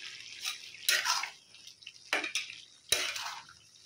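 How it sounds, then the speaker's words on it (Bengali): Curry being stirred in a cooking pot, a few scraping strokes arriving in separate bursts with quiet gaps between them, close by and with no talking. "একটু নেড়ে নিই,"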